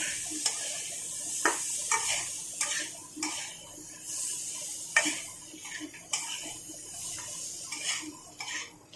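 Fish fries in oil over a high gas flame with a steady close sizzle, while a utensil stirs and taps against the pan in a repeating clinking rhythm.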